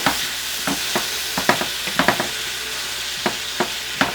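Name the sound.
stirring and deglazing braised beef ingredients in a hot pan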